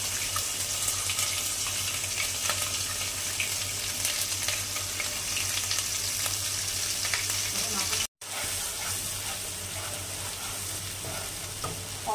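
Cashew and onion paste with whole garam masala fries in a pan for a chicken dish, making a loud, continuous sizzle with steady stirring scrapes and a brief break partway through.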